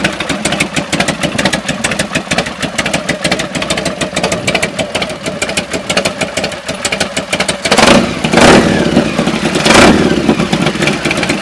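A motorcycle engine idling with a loud, rapid clatter close by, then revving up twice in strong bursts before settling back.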